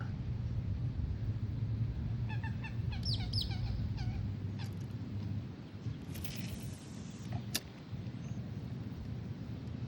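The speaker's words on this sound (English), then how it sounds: "There goes a duck." A duck calls near a pond during a night bluegill fishing session, a short run of harmonic quacking calls in the middle, heard over steady low outdoor noise and rumble.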